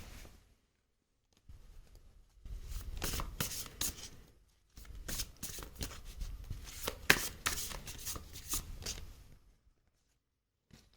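Tarot cards are shuffled by hand in several rapid riffling bursts separated by short pauses, close and crisp in a quiet room with no talking.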